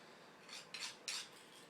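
A few quiet metallic scrapes of a knife blade drawn across a sharpener, two or three short strokes against a faint background hiss.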